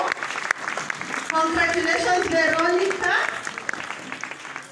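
Parents at a graduation ceremony clap and cheer for a graduate, a moderate wash of applause beneath a voice calling out congratulations.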